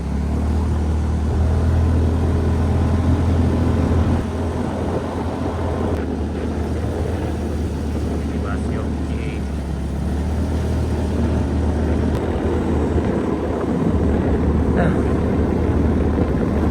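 Motorcycle riding along a muddy mountain road to Puncak Binuang, a steady low engine drone with wind rumble running continuously throughout, with talk over it.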